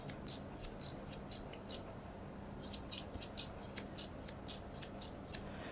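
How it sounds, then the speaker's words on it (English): Grooming scissors snip through a poodle's coat in quick, crisp bursts, two runs of rapid rhythmic cuts separated by a short pause, close and clear with no talking. "I'm going to begin by popping my scissors on that 30-degree angle and cutting our croup area"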